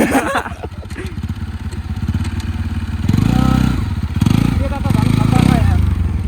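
A motorcycle engine running and revving close by while riding, with rattles and bumps, its throbbing growing louder in the second half.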